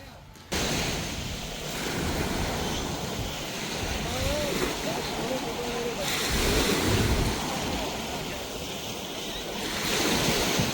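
Beach waves on Phi Phi Island, Thailand: a constant rush of surf with swelling surges and wind buffeting the microphone, and faint voices in the background.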